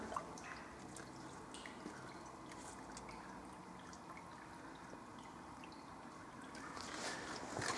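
Water drips and trickles inside an old farm well among farmhouse ruins, faint scattered drops echoing over a quiet hollow background.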